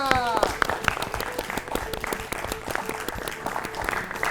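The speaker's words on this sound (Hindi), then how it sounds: "हो जाए जोरदार तालियां" Loud, energetic clapping from a group rewarding a correct answer on a children's kabaddi quiz show, dense and continuous, with bright individual claps standing out and a few voices mixed in.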